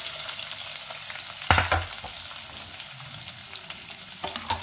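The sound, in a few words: onion frying in oil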